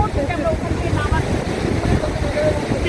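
Sea wind blows at Digha beach, buffeting the microphone with a low, continuous rumble and a faint wash of surf, while faint voices drift in the background.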